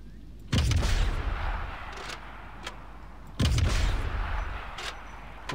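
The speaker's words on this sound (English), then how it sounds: "So if you aim for this part here on the Kuba wagon, it'll blow up." Two heavy explosions of a Kuba wagon in the video game Sniper Elite, each a sudden loud boom with a long rumbling decay, spaced about three seconds apart over low game ambience.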